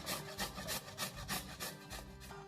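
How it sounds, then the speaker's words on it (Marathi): Bottle gourd being grated by hand on an ordinary kitchen grater, a steady rhythmic rasping with repeated scraping strokes at an even pace, close and moderately quiet with no talking. "हा भोपळा मी किसून घेणार आहे। आपली नेहमीची जी किसणी असते त्या किसणीनेच किसायचा।"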